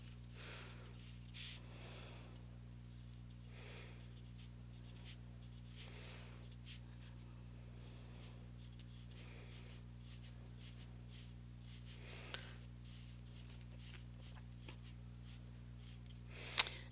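A pencil shades a corrugated metal texture onto paper in repeated short, faint scratching strokes over a steady low hum, with a couple of sharper ticks near the end.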